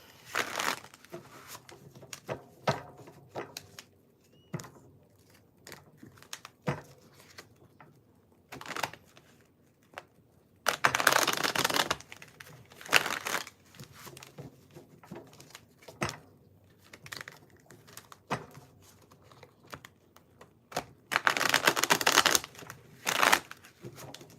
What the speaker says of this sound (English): Aquarius is giving me a hard time to shuffle